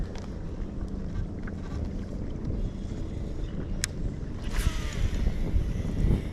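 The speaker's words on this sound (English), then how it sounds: "now that the wind picked up a little bit" Wind blowing across a lake during a kayak bass fishing tournament at Mosquito Creek Lake, a steady low rumbling buffet on the microphone with small water and gear noises near the end, no talking.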